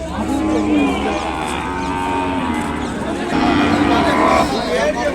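A calf at a cattle market gives repeated drawn-out moos close by, with someone talking over it and crowd murmur in the background.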